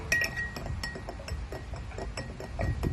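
Water is stirred gently in a glass. A spoon clinks lightly and repeatedly against the sides over soft swishing, close and quiet.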